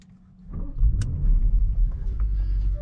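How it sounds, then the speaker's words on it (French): An Audi S8 with a stage 1 tune starts up: a quiet lead-in, then a rising engine rumble that settles into a steady, loud, close idle with no talk. "Et on va directement démarrer le véhicule."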